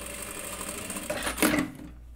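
Sewing machine stitching around the edge of a fabric face mask, a continuous close mechanical whir that rises briefly near the end, then stops.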